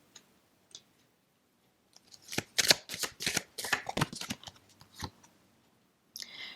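A deck of tarot cards shuffled up close, a quick rapid riffle of crisp flicking clicks lasting a few seconds, with a few isolated taps before and after, no talking.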